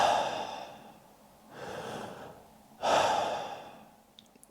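Slow, relaxed breathing: long, airy inhales and exhales close to the microphone, with steady pauses between them and no words spoken.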